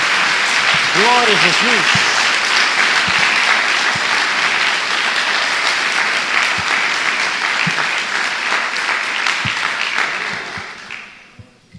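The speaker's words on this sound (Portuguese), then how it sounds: "Dê mais uma salva de palmas ao nosso Deus." A church congregation applauds loudly in a dense, sustained wash of clapping, with a voice briefly praising over it near the start; the applause fades out at the end.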